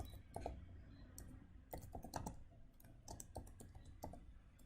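Fingers type a comment on a computer keyboard in a quick, irregular run of crisp key clicks, close and fairly quiet, with brief pauses between bursts.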